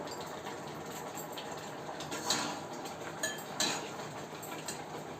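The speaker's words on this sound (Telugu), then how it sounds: "మనకి బెల్లం పాకం చిక్కబడి ఈ కొబ్బరి ఉడికి ఉండకొచ్చేంత వరకు మనం తిప్పుతూనే ఉండాలి" Coconut being stirred into thickening jaggery syrup in a pan for laddus, with a steady close scraping and shuffling texture and a few sharp clinks of the spoon against the metal.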